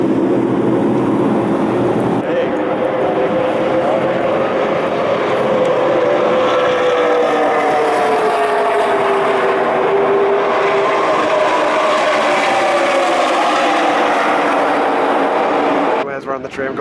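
Xfinity Series race cars practicing at Daytona International Speedway, their engines forming a loud, continuous roar with rising and falling pitch sweeps as cars circulate, ending in a brief burst of noise.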